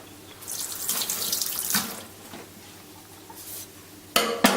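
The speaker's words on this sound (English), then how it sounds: "So under a running tap, not too hard." Water runs from a kitchen sink tap at moderate force while a fish-filleting knife is rinsed, a steady close splashing stream that quiets near the end before a louder burst of water.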